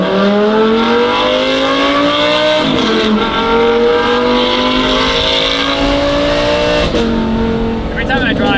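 Audi R8 V10 with an F1-style exhaust revving loud and close in a continuous high-pitched wail, the pitch climbing and dipping through several gear shifts, with no talk over it.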